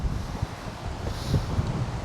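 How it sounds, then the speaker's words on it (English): Strong wind buffets a microphone outdoors during a winter camping stop at a dump station, producing a steady low rumble with gusty swells and no voices. "I don't know how well your microphone will work in this wind."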